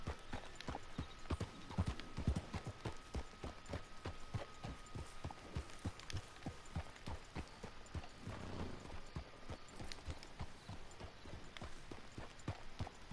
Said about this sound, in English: let's get the canter going.